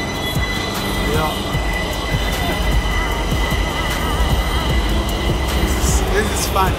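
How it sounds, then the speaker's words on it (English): A train pulls into a busy Indian railway station, its loud, continuous rumble of wheels and carriages close by and filling the scene, with faint squeals and metallic clatter over it. "So, my train is about to come. You can see it's approaching."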